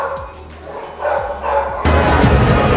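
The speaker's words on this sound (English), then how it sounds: "the dogs decide they want to bark." Dogs bark in a few short, close bursts, a yip and a bow-wow, followed by a louder mix of barking and noise near the end.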